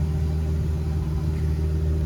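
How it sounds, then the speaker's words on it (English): A V6 engine fitted with a Hemi exhaust idles with a steady, low rumble, loud and close, with no other sounds. "the exhaust gives the V6 a little bit of a lower rumble at idle"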